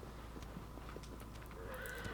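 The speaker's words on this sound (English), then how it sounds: "The horse riding is great in this game." A horse galloping in the video game Shadow of the Colossus, quiet rhythmic hoofbeats with a faint whinny over a low, steady background.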